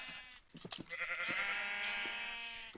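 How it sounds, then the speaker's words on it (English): A Minecraft sheep bleating while being killed: a single drawn-out, wavering bleat preceded by a few short clicks, fairly quiet and alone. "with the poor sheep, we're gonna kill it"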